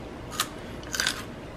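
Two crisp bites into raw kohlrabi freshly harvested from an aquaponics bed, each a short, close crunch with a brief pause between them.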